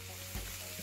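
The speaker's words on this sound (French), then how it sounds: "Tout d'abord, je fais revenir mes oignons." Onions fry in a pan with a steady, close sizzle and a brief stirring clatter partway through, faint and without talk.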